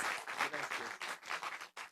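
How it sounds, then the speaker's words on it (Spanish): An audience at an academic chemistry education event gives a short round of applause, close, uneven bursts of clapping that pulse and dip over two seconds. "acompáñenme por favor a darle un aplauso y un reconocimiento"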